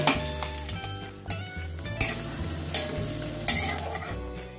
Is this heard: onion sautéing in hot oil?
yes